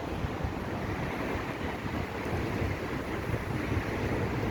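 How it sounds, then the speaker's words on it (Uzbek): Sea waves wash onto a shore in Greece as a continuous broadband surf roar mixed with wind noise, steady and moderately faint. "Endi dengiz bo'yiga tushamiz endi hozir."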